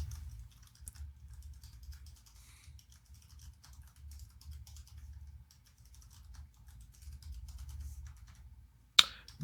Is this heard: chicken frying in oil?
no